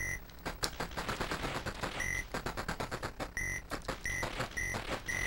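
Enemy gunfire in a Capcom Classics Collection arcade shooter on PS2: rapid, dense bursts of shots crackle continuously, punctuated by repeated high electronic beeps, loud and close with no voices.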